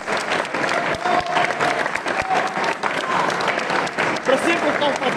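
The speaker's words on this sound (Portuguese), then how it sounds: "Uma salva de palmas para o António Semedo." An audience claps on the stage of an anime convention in Santarém, giving a steady round of applause from a crowd in a hall. A voice speaks faintly over it.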